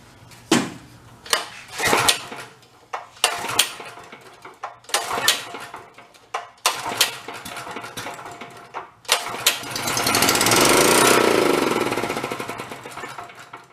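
The small engine of a free air compressor with a clacky bottom end coughs and pops through several loud, close attempts, then catches and runs briefly with a rough, clattering roar.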